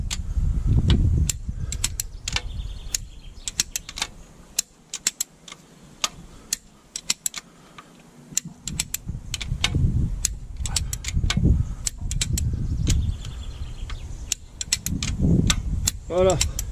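A ratchet tightens the cylinder head bolts on a 1984 Alfa Romeo Spider 2-litre engine, giving bursts of sharp, rapid, close clicking that stop and restart, with someone speaking between and over them.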